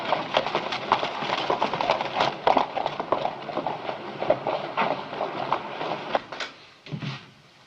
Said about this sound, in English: Take the horses over to the livery stable.